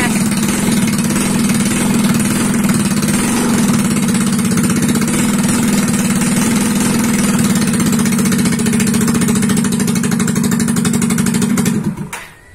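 Yamaha Mio scooter engine running steadily at a loud, close idle with a strong low hum and slight vibration, holding for about twelve seconds before cutting off abruptly at the end.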